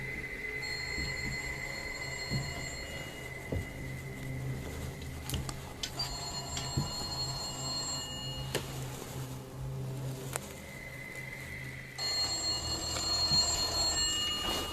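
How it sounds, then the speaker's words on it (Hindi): An old telephone rings repeatedly in a room of a house, its wireless bell sounding steadily and fairly close through the whole stretch, with a brief dip in the middle before ringing resumes louder. "मकान के एक कमरे से उन्हें टेलीफोन के रिंग बजने की आवाज आने लगती है"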